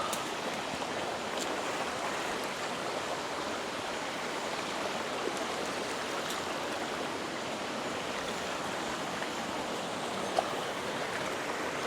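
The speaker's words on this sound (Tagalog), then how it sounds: "May maliit na falls agad." Small waterfall flowing, a steady close rushing splash of water with no voices over it.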